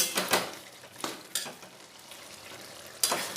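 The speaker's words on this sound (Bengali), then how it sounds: "এবারে নাড়াচাড়া করে মিশিয়ে নেব।" Lau chingri, bottle gourd and prawn curry, stirred in a pan: sharp spatula scrapes and clacks come in short bursts over a low simmering sizzle, close by and with no talk.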